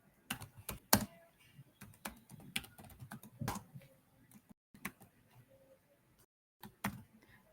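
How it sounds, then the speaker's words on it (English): Keys clatter on a computer keyboard in irregular bursts of typing during JavaScript coding, close and fairly quiet, with short pauses between runs of keystrokes. "So I'm typing here"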